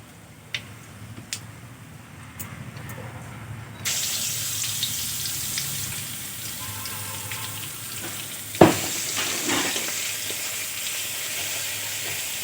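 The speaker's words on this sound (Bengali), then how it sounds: "রসুনটা ভেজে নেব।" Crushed garlic added to a pan with fried chillies for methi saag, and a loud steady sizzle bursts in partway through, continuing close with faint clicks, no talk.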